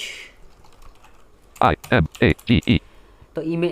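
Computer keyboard typing while an HTML webpage is built with a screen reader: five loud, evenly spaced keystroke bursts, close and crisp, after a faint stretch, with a short electronic voice at the end.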